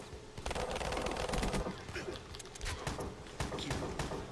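Shotgun fire in Call of Duty Black Ops 3: a dense, continuous run of overlapping gunshots and rapid firing throughout, loud and busy, with faint footstep-like thuds underneath.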